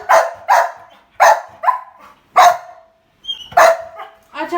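Close, loud barking from a female dog at home, a quick series of sharp single barks with short yips and whines in between and no talking over them.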